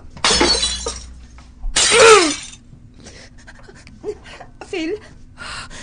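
Glass or a plate shatters twice in a domestic setting, each a loud, sharp crash with ringing fragments, followed by gasps and quiet whimpering voices.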